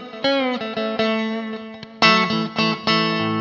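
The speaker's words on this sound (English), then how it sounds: "It's like a modern plexi amp" Clean electric guitar played through an Overloud THU plexi-style amp simulation modeled on a 1965 Metro 4x12 cabinet miked with an SM57 and a 421, ringing out several separately picked chords with sustained harmonic tones, close and moderately loud.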